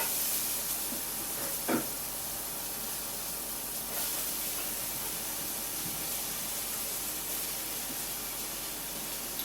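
Carrots, celery and peppers sizzle in a pan with onions and garlic, giving a steady, faint hiss with a couple of soft knocks near the start.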